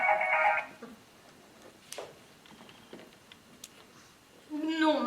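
Telephone ringing indoors, a bright trilling burst at the start and another at the end, with quiet room sounds and brief faint voices between the rings.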